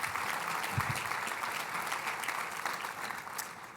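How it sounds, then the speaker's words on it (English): A breakfast business-networking event audience applauds a nonprofit president and CEO, with steady, dense clapping that holds at even loudness throughout before easing slightly at the end. "Give her applause too."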